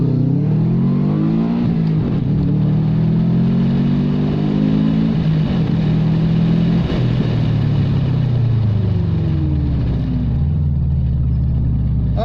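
A Subaru Impreza engine revving hard through the gears on a sprint run, loud and close, rising in pitch, dropping at each shift, then climbing again, with no talk.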